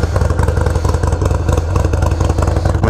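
A Harley-Davidson Evo motorcycle engine with a Gallup 2-into-1 Mighty Comet exhaust runs steadily close by, a deep, loud, throbbing rumble with a rapid lumpy pulse and no pauses.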